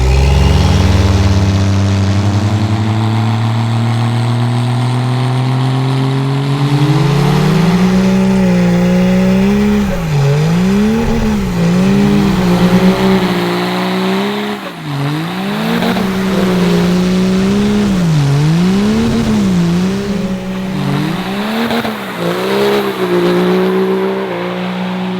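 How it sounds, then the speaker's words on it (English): A hood-stacked Cummins diesel truck doing a burnout: a loud, sustained engine roar that climbs steadily, then surges and wavers in repeated revving swells with tire noise underneath, close and continuous without talk. "And now we're gonna do a nice little burnout."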